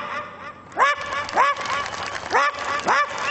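A man vocally imitates the bark of a poor household's dog: four short, nasal, quack-like yelps in an uneven rhythm, close and fairly loud with quiet gaps between.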